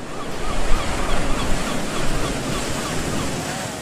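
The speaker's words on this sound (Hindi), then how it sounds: "ऊंची नीची लहरें मेरे चारों तरफ उठती गिरती हैं" Ocean waves surge and recede at a beach, a loud broadband roar that swells and eases with wind noise mixed in, continuous throughout.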